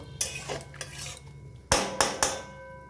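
A metal lid is set onto a cooking pot of chicken tehari: soft clattering first, then three sharp, loud metallic clanks close together, with no talking.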